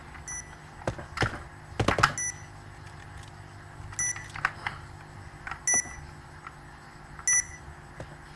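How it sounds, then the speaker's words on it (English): Planted bomb beeping in Point Blank, short electronic bleeps repeating at regular intervals of roughly a second and a half, faint against background game noise with a few thuds early on. "Bomb has been planted."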